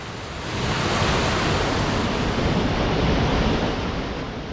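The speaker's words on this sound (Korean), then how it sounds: "계곡을 건너는 다리 위 계곡 물소리가 우렁차네요. 커다란 폭포 같은 소리를 냅니다." Loud mountain valley stream at Yongchu Valley in Gapyeong, heard from a bridge over the water: a dense, roaring rush like a waterfall, swelling in and holding steady throughout without speech.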